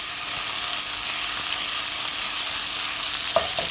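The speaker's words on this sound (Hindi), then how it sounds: "इसी तरीके से आपने इसको करें, हिलाएं, ये खुद ही फ्राई हो जाएंगे। देख रहे हैं आप कितना अच्छा फ्राई हो रहे हैं।" Koftas fry in a pan of hot oil with a steady, close broadband sizzle that runs unbroken throughout, and a couple of brief stirring clinks come near the end.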